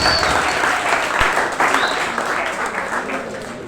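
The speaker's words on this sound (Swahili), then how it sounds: "Pigia wale wa 14 makofi." A crowd claps in sustained applause, loud and dense, with a voice or cheer briefly rising over it.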